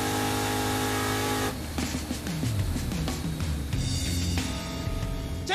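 The Roadkill Crusher Impala drag car roars hard down the strip after an initial steady engine drone, revving up through several gear changes with clear rising pitch sweeps and shift breaks, loud and close.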